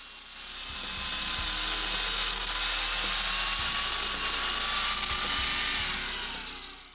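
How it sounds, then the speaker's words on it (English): An angle grinder fitted with a cutoff wheel cuts through nylon braided hose, giving a steady, loud high-pitched whine that holds for several seconds, with no talking. "I used the angle grinder with a cutoff wheel"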